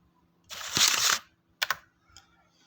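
Someone types a text prompt on a computer keyboard, with a dense run of rapid key clicks, then two brief taps and a faint last press, close and fairly quiet with no talking.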